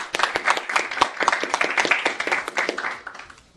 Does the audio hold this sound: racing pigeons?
no